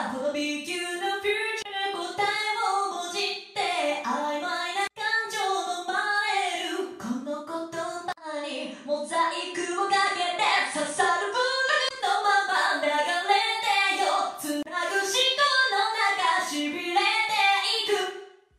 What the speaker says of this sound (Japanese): はい、元の音を消してリバーブの音だけにします。